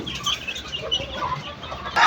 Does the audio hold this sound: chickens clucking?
yes